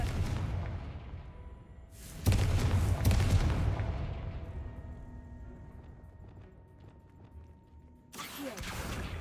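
A Confringo fire spell explodes in the Hogwarts Legacy video game, a sudden loud blast with a rumbling tail, followed later by a second burst of impact.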